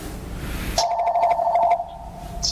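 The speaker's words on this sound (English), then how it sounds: "somebody's phone is working." A mobile phone rings in a school board meeting room, its steady electronic tone pulsing loudly for about a second before dropping away, with room noise underneath.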